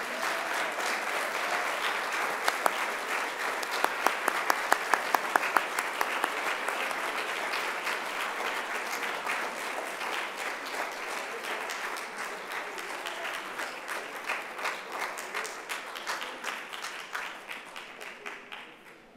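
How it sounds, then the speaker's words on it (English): A crowd at a Black Lives Matter Day afternoon session gives a community artist sustained, even applause for nearly twenty seconds, with dense clapping that tapers slightly toward the end. "give a round of applause to our outstanding community artist"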